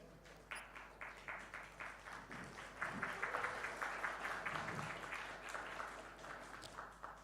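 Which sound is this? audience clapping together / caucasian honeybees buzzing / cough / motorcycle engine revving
audience clapping together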